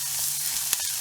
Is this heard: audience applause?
no